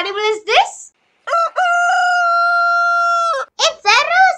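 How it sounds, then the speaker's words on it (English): A rooster crows one long, loud, sustained cock-a-doodle-doo that holds steady before dropping off, set between short stretches of speech before and after. "It's a rooster."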